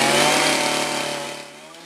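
A chainsaw fitted with a milling attachment runs loud and close with a steady high engine whine as it cuts a log, then winds down near the end.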